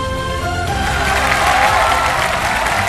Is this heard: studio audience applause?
yes